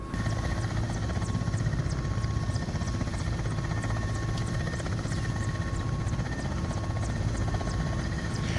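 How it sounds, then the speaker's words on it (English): Mil Mi-17 helicopter in Microsoft Flight Simulator, its rotor giving a steady, loud blade slap with a constant turbine whine and faint whistling, unbroken and alone with no talk. "I love the blade slap and the whistling sounds."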